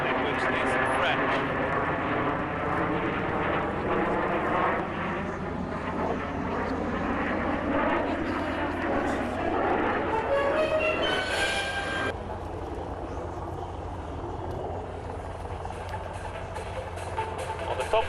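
Swiss Air Force Patrouille Suisse jets in a barrel roll at an airshow produce a loud, continuous roar with shifting whine as they pass, while a commentator talks over it.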